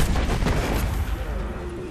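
Heavy booming cannon fire from enemies in the video game Destiny, a dense, loud rumble of blasts that fades over about two seconds.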